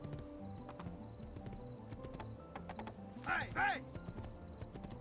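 Horse hooves clip-clop in a steady, close rhythm in the video game Assassin's Creed II Remastered, with a brief shout from a person partway through.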